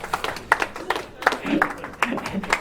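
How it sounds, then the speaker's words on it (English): Audience applause at a fundraiser performance, scattered claps rising and falling, mixed with voices and some laughter in a room. "That's the first time that one's gotten an applause"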